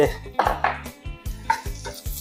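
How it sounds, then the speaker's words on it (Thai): Metal spatula scrapes and clanks against a wok in a steady rhythm while chopped garlic sizzles underneath in a little oil, close and fairly loud. "กระเทียมสับครับ เอาลงไปเกียวให้หอมพี่น้องเลย"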